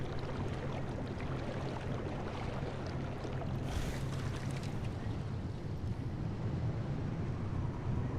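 In the Pacific Drive video game, a car ploughs through water, giving a steady low engine rumble under a constant broad rushing, splashing wash that briefly swells midway. The sound stays loud and even throughout.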